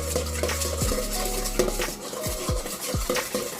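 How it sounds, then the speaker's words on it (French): A whisk or spoon stirs crepe batter of oil and sugar in a bowl, with repeated scraping and clinking strokes against the bowl, close and steady, no speech. "Et je mélange."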